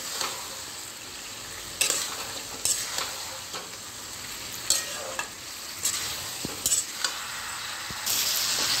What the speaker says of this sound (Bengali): আলুটা দিয়ে একটু কষবো।